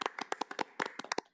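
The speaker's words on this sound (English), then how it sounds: "let's all attempt to do an applause" A few people clap over an online meeting connection, sharp, uneven hand claps coming through thin and compressed, irregular and close together for just over a second.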